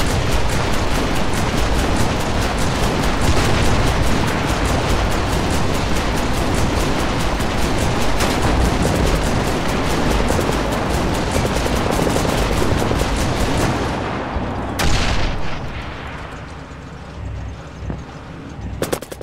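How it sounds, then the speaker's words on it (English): Tank battle in the Fog of War video game, a dense, continuous roar of machine-gun and cannon fire with explosions that stays loud throughout, then drops away suddenly near the end, with no talking. "This could be our first little tank battle."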